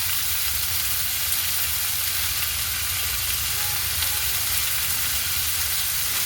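Dried red chillies fry in hot oil with mutton, a continuous bright sizzle and crackle with a low bubbling undertone, steady and close, with no talking.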